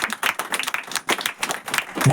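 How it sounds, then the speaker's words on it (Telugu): A church congregation at a Christmas service claps loudly together, a rapid, dense burst of hand claps that continues steadily throughout. "నేను కూడా నీతిమంతుల గుంపులో ఉంటాను ప్రభు అనుకుంటే గట్టిగా చప్పట్లు కొడదాం"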